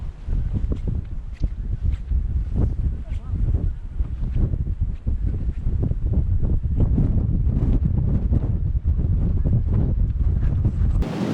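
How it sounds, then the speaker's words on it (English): Strong wind buffets the microphone on a flat coastal marsh walk at Hesketh Out Marsh, a loud, continuous low rumble with gusty surges throughout, covering everything else. "I'm hoping you can still hear us over this wind."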